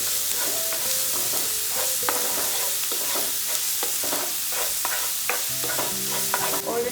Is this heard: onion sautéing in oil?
yes